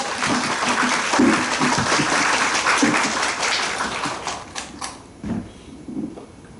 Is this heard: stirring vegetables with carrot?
no